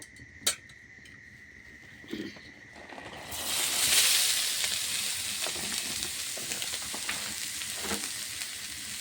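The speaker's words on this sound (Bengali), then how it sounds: "ঘিটা গরম হয়ে গেছে, এবারে নারকেলটা দেব।" A sharp click and a short clatter, then a loud sizzle bursts in as grated coconut hits hot ghee and keeps frying steadily, with faint stirring.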